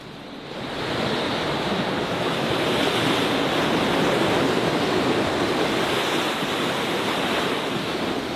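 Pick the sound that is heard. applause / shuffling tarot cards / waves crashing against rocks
waves crashing against rocks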